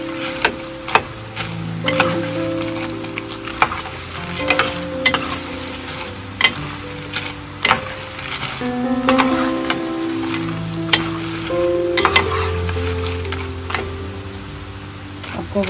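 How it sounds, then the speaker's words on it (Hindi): Phulki, gram flour fritters, frying in hot oil: a steady bubbling sizzle with scattered sharp ticks and clinks of a spoon or utensil, close and fairly loud, continuous throughout with no voice. "आपको आवाज आ रही होगी इनको पकने की"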